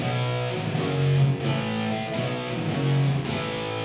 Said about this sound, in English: Playing with a lot of distortion.